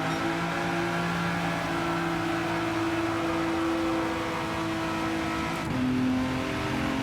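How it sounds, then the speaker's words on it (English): An engine-swapped VW Polo GTI in the GT7 racing game holds a high steady engine whine near its rev limiter, then shifts pitch briefly before settling again, loud and continuous. "Even with us hitting a rev limiter, 320 is more than enough."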